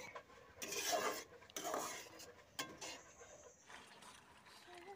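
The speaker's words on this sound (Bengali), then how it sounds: "এভাবে কিন্তু খুন্তিটা দিয়ে নাড়তে চাড়তে থাকতে হবে" A metal spatula scrapes and stirs a tomato and flour dish in a pan, giving loud raspy bursts with short pauses between strokes.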